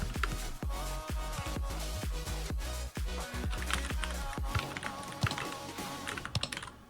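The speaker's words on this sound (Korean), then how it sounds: "키가 너무 안 눌려 키보드가 고장난 것 같아" Rapid, rhythmic clicking of computer keyboard keys during a FIFA Online 4 match, on a keyboard whose keys feel stiff and seem faulty. The steady, fairly loud taps run throughout over busy game sound.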